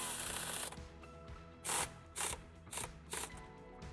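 A self-tapping screw is driven into the tow hitch area of a Volkswagen Transporter to fix ground wires, heard as four short whirring bursts of a power driver over a low background.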